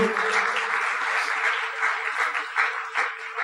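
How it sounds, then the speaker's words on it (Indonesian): Sustained audience applause at an Indonesian company event, a dense steady wash of many hands clapping at moderate loudness with slight swells, no voices on top. "Jadi sekali lagi kita aplaus untuk perusahaan Tiansi"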